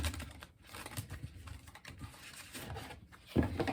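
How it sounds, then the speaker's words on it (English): Tarot cards from a Light Seers deck are pulled and shuffled by hand, giving soft close papery flicks and pattering rustles that continue steadily, ending in a slightly louder handling thump. "We're going to continue by pulling 6 tarot cards from the Light Seers Tarot deck."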